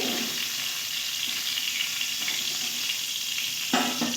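Nigella seeds and dried red chilli sizzling in hot oil left from frying prawns, a dense steady crackling hiss up close, ending with a sharp clatter as something is stirred or added.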